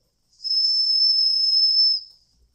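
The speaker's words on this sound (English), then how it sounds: "Listen to the whistle" A Weeden toy steam engine's steam whistle gives one steady, shrill, airy tone lasting about a second and a half, heard alone and close up.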